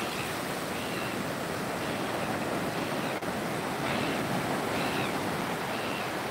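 Small surf-beach waves wash and break continuously nearby, a steady broad hiss of churning water with soft swells, mixed with some wind noise and no talk.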